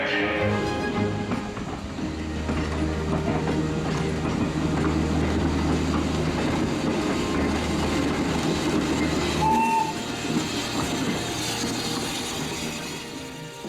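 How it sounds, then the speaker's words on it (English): Train rumbling past at the East Anglian Railway Museum, where a steam engine is running, with a steady low rolling drone and rattle, a brief high squeal partway through, and the noise easing off toward the end. "And we do have a steam engine."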